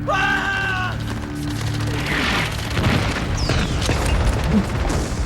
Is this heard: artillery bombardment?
yes